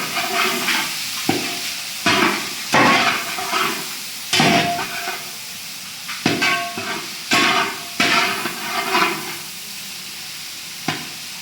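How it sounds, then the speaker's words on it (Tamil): Chopped onions fry in hot tempering oil for country chicken chops while a spoon stirs them, producing loud close sizzling surges with scraping strokes that come in uneven bursts every second or so. "வெங்காயத்தை சேர்த்துக்கிறேன். நல்லா கிண்டி விடுறேன்."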